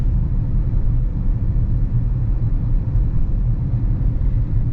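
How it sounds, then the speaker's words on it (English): Inside a 2026 Chevy Equinox Midnight with all-wheel drive, a loud steady low rumble of engine and road noise holds throughout without clear rise in pitch, no voices. "I want to do an acceleration for you guys with all-wheel drive."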